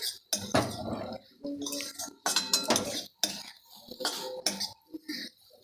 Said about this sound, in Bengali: খুব ভালো করে নেড়ে নিচ্ছি